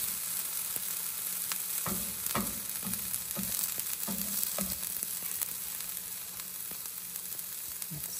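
Onion browning in a frying pan, with a steady close sizzle and occasional scrapes and stirring clicks from a utensil, and no talking.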